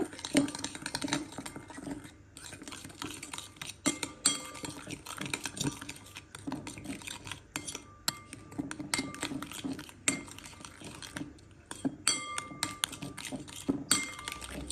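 Chicken pieces mixed with about three spoonfuls of yogurt marinade for spicy fried chicken, a steady run of clinks and scrapes from a utensil against a bowl, close and fairly busy, with no talking.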